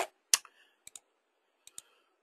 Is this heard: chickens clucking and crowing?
no